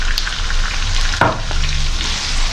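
Brinjal and green chilies being sautéed for Tamil sambar in a pan, giving a steady close sizzle with a brief clatter of stirring midway; no talk.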